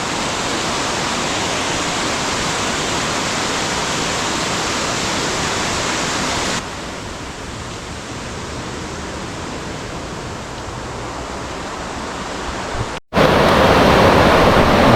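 Kumbhavurutty waterfall in Kollam, Kerala, a dense, steady roar of rushing water that fills the whole clip, with a brief cut near the end.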